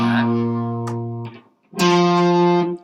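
An electric guitar plays a song's chorus, two sustained distorted chords with rich harmonics separated by a brief silence, loud and close.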